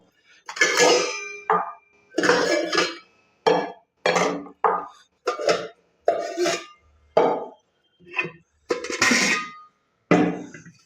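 A brass Rukmini rice cooker is opened and its metal parts are handled, giving a close series of about a dozen separate clanks and clinks in an uneven rhythm with short silences between them.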